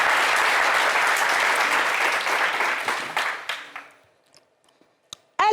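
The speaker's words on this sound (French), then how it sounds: "Applaudissez pour ça." A studio audience at a French-language comedy show bursts into dense, sustained clapping that carries strongly for about three seconds, then thins and fades to near silence, with a few stray claps at the end.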